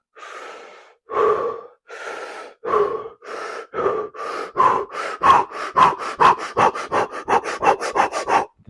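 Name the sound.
forceful breathing before lifting heavy dumbbells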